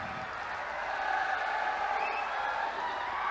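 Students applaud at a college event, a steady sustained clapping from a crowd that stays even and moderately loud throughout.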